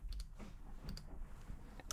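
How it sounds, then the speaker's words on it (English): Sparse, faint clicks from a computer keyboard as a terminal command is typed, a few separate keystrokes spread over about two seconds against quiet room noise. "So we do this by typing"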